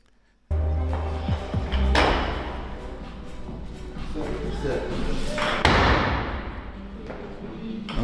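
Weightlifting on a platform: hard-soled heels strike with heavy thuds and a loud crash as the barbell lands, while a person talks under the impacts.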